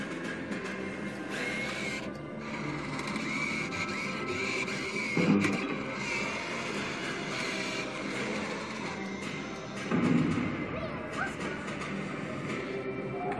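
Online Worms slot machine game music and reel sounds play continuously, a dense looping electronic tune with brief louder chimes near the middle and end, with no talking over it.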